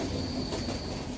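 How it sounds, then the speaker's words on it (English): Train wheels rattling and clacking along a metal track, a steady close rumble with a rhythmic click-clack and a faint thin squeal over it. "Whoa, feel that rattle. This train's really moving."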